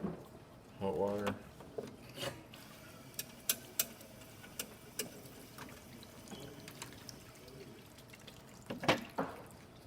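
La Spaziale EK espresso machine dispensing hot water, a soft trickle and splash with scattered small clicks and clinks, under brief talk at the start and end.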